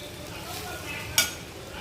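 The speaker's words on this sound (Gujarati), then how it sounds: "હવે એને બરાબર હલાવી લઈશું." A spoon stirring rice into vegetables for veg pulao, a soft sizzle followed by one sharp clink of the spoon against the pan, all very short and nearby.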